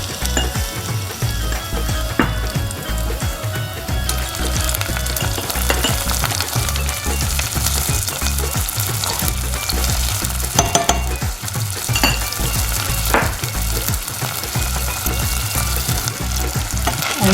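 Garlic-ginger paste and cumin seeds fry in hot oil in a pan while making Patiala chicken, giving a loud, steady, continuous sizzle with no talking.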